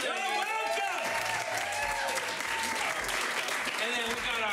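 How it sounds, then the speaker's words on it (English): Audience applause and cheering at a comedy showdown as the winner, Bill McKinley, is welcomed, a dense steady wash of clapping that runs the whole time with a voice talking over it. "Give them a round of applause."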